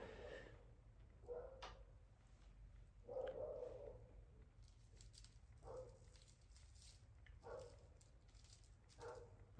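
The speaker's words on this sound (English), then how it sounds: "My dog's barking." A dog barks and yips at a distance, coming in several separate, faint bursts spread over a low, steady background hum.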